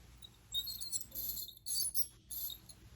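A high-pitched electric buzzing whine from an ultrasonic dental plaque remover on its soft setting, pulsing on and off in short bursts at close range.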